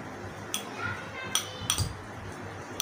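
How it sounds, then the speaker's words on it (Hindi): A peeled banana is mashed in a kitchen utensil, with a few sharp metallic clinks and taps as the tool hits the vessel, over soft scraping and a quiet background. "और किसी भी आप बर्तन में मैश कर लें।"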